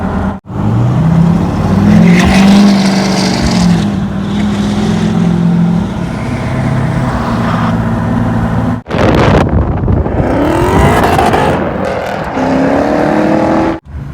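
A Chevrolet Cheyenne pickup truck engine revs up hard with a loud, rising exhaust roar, cuts off briefly, then pulls again with gear changes and wind noise.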